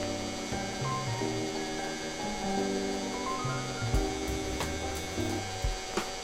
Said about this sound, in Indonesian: Biarkan mixer memutar dengan kecepatan rendah.